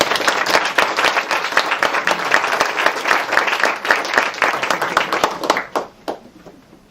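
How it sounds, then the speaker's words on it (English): Audience applause at a 2013 graduation ceremony for a public affairs fellowship, loud and dense with many hands clapping steadily, thinning out toward the end into a few scattered final claps. "Let's give them all one more round of applause."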